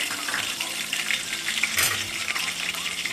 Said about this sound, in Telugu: చిల్లి ఇప్పుడు వేగినాయి.